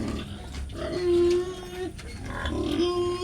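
Domestic pigs on a farm, including a pregnant sow, give close grunts and a drawn-out squeal amid low barn noise.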